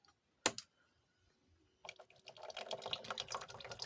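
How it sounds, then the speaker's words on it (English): Water from a Lego water fountain starts trickling and splashing after a sharp click and a quiet pause, then rises into a faint, steady patter. "There's the water fountain."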